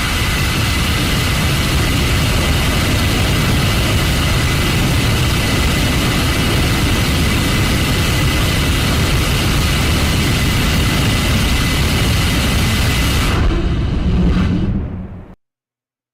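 A rocket engine fires with a loud, steady broadband roar that holds for about fourteen seconds, then cuts off abruptly at shutdown with a brief honk of hydraulic hammering from the plumbing before silence.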